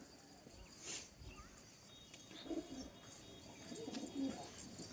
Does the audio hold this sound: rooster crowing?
no